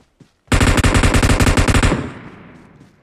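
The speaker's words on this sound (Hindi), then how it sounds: "डबल मशीन गन चला रहा बंदा" PUBG machine gun fire, one loud rapid burst of about a second and a half with evenly spaced shots, then a fading echo and silence.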